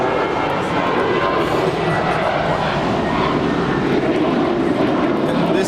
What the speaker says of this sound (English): And this is JetBlue Airways flight 688 departing to Boston.